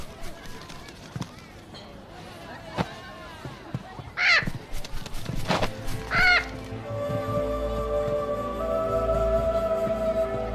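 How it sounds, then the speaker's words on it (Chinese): A parrot gives two sharp, loud squawks a couple of seconds apart, with scattered sounds and a rising hum around them in an ancient-costume drama scene. "哪来的臭鸟？"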